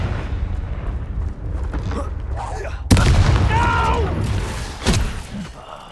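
A Confringo blast spell in the Hogwarts Legacy game goes off as a sudden loud explosive burst. A second, smaller impact follows, set over ongoing game noise and voiced spell calls.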